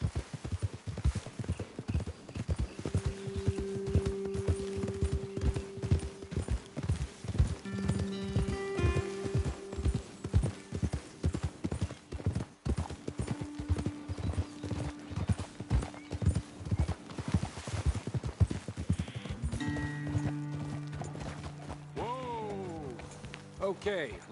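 Horses gallop along a trail in Red Dead Redemption 2, a fast, steady clip-clop of hooves running throughout, close and prominent, while characters talk over it and a horse whinnies near the end.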